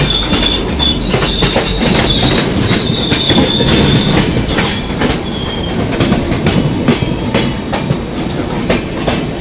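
A passenger train on an Indian rail route rolls past at close range, loud and continuous, with rhythmic clickety-clack of wheels over rail joints and thin high wheel squeals drifting over the rumble.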